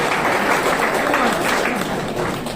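An audience at a birthday celebration for Nara Lokesh claps together in a dense, loud burst of applause that holds steady and tapers slightly at the end.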